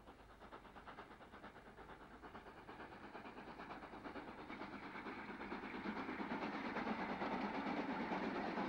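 Steam locomotive hauling a train past Retford sidings in the 1960s, a rhythmic chuffing and rattling that grows steadily louder as it draws closer, with no voices over it.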